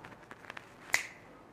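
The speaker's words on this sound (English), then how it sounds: "I'll snap my fingers." A Ghanaian magician snaps his fingers once during a magic trick, a sharp, close, crisp crack that stands out after a few faint softer clicks, with no talking.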